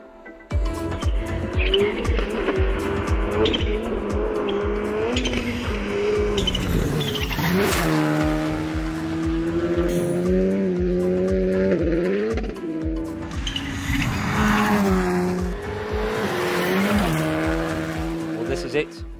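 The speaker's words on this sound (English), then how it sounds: "This is the brand new Škoda Fabia RS Rally2 car." A Škoda Fabia RS Rally2 rally car drives hard, its engine loud and close throughout with rising and falling revs, gear changes and tyre squeal, while a person talks over it.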